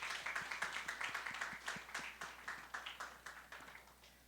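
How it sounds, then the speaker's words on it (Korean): A church high-school youth group claps to welcome new members, a quick, even run of handclaps from a small crowd that sounds somewhat distant and faint and fades slightly toward the end. "박수로 환영하겠습니다"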